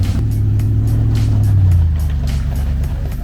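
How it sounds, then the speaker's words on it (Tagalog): A 4x4 vehicle's engine straining off-road, a loud steady low rumble that swells and dips slightly while the vehicle labours over rough terrain, with no talk. "Pinapahirapan niya talaga yung sasakyan, guys."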